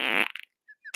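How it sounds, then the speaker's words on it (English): A soundboard fart effect blares in a short loud buzzing burst, followed by a few faint trailing squeaks. "Lead into the fart noise."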